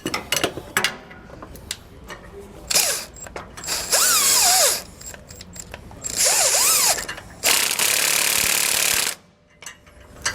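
Ratchet wrench tightening a lock nut on a Roadmaster rear anti-sway bar fitted to a 2019 Coachmen Pursuit motorhome, heard as several loud, close bursts of rapid pawl clicking separated by short pauses.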